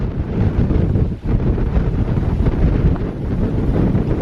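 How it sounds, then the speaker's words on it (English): Strong headwind roars steadily through a tunnel on a cycling route, buffeting the microphone with a heavy low rumble and dipping for an instant before gusting on. "We got a strong headwind going through this tunnel."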